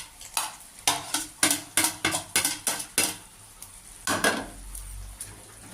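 Banana flower curry with prawns and poppy seed paste stirred in a pan, a spatula knocking and scraping in a quick run of sharp close strokes, then a pause and a couple more scrapes.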